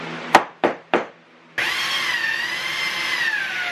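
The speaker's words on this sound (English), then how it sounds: "Now that all the holes have been drilled for the light sockets" Power drill boring holes for light sockets in a vanity mirror: three short sharp bursts, then a loud sustained whining drill run, close and alone.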